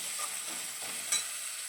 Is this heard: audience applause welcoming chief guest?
no